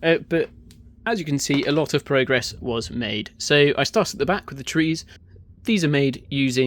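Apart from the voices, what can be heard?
No distinct noise like a dog, phone or traffic.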